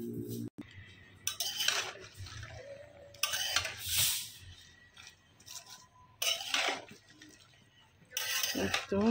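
Salted vegetables with chili powder are stirred in a pan, with several bursts of scraping and clinking from a spoon against metal, separated by quieter pauses and no talk.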